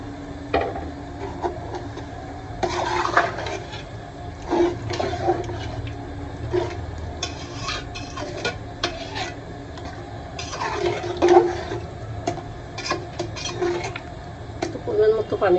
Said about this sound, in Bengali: এখন দিয়ে দেবো প্রয়োজন মতো পানি দেবো